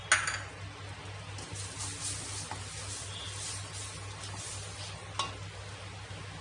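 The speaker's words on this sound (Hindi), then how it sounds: "अब देखिए बेसन ने हल्का सा रंग बदलना स्टार्ट कर दिया है। अभी इसे हम थोड़ा सा और भूनेंगे।" Gram flour (besan) roasting in a pan for dum aloo, with a soft, steady sizzle and scraping stir of a spoon against the pan, a low hum beneath and a couple of sharper clinks near the start and toward the end.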